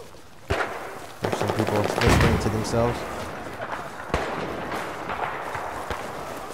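Gunfire in the shooter Battlefield 4 on PS4, a couple of sharp shots followed by a dense crackling burst and a later report, mixed with game noise and someone speaking.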